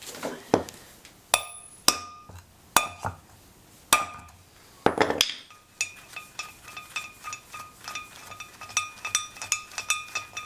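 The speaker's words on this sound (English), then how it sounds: "And then grab your mallet." A mallet strikes an old wheel stud on a car hub, sharp metallic clanks ringing out at irregular intervals before speeding into a quicker run of lighter taps, loud and close with no voices.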